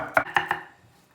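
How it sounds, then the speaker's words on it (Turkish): A knife chops small onions on a board in three quick, crisp, evenly spaced strikes, close and clear, followed by a fading tail. "Onun için fazla doğruyorum."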